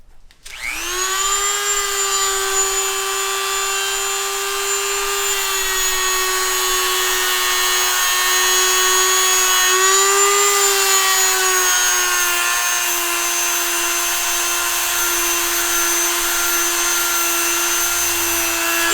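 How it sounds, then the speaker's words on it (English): A Dremel rotary tool grinds clearance into a Tillotson 236cc racing mini bike engine block for the crankshaft, giving a loud, steady high-pitched whine that spins up sharply and holds for the whole stretch, with a slight dip in pitch midway. "I'm going to use the Dremel tool, and I'm going to clean that up to try to eliminate our contact area."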